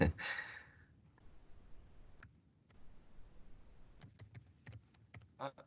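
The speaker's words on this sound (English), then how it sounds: "I'm typing a message" Quiet, close keystrokes tap on a computer keyboard in short irregular bursts, with a sigh-like breath at the start and sparse clicks clustering near the end; no voices.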